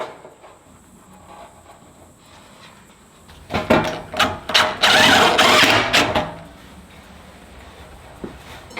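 Power drill boring pilot holes through thick metal roofing sheet on an outdoor sheep mineral feeder build, a few short bursts followed by a sustained loud grinding whine about two seconds long, then quiet.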